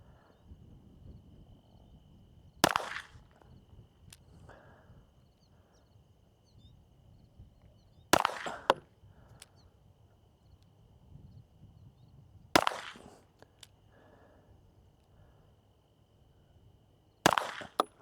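Four slow, evenly spaced pistol shots at a range while confirming a red dot zero, each a sharp loud crack with a short echo, separated by long quiet gaps holding a faint steady tone and rustling.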